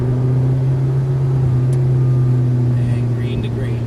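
McLaren MP4-12C sports car engine holding a steady, loud low drone on a cone-marked driving course, with an instructor talking over it throughout.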